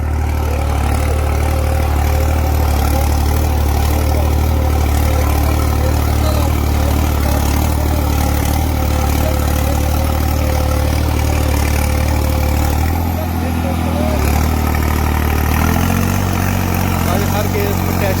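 Tractor engine running steadily while pulling a subsoiler in a field, a loud continuous low rumble with a brief dip in tone partway through, heard alone at close range.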